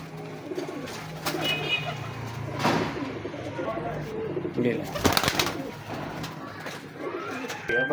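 Pigeons of a big breeder strain, in a loft, give a low, steady cooing that runs through the whole stretch, with brief flutters and someone talking over it at moderate volume.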